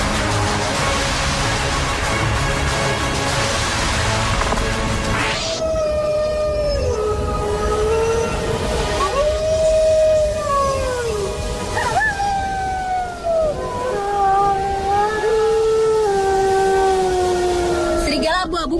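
Gray wolves howl with several long, sliding tones that rise and fall and overlap one another, following a rough, noisy opening. The chorus is steady and fairly loud, with no talking over it.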